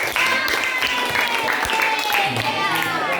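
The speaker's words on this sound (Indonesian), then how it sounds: "Tepuk tangan untuk kita." A class of students claps together in a classroom lesson, a steady close wash of applause running throughout while a voice speaks over it.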